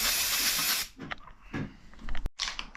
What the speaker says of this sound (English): So now I'm just using some brake cleaner, just sprayed it on there just to get rid of all the dust